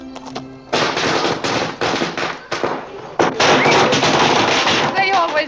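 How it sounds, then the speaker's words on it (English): Strings of firecrackers going off loudly and close by in rapid, crackling bursts with short gaps, while people talk over the popping. "They always light firecrackers when I come home."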